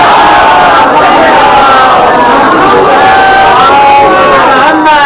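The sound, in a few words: crowd reciting salawat at a majlis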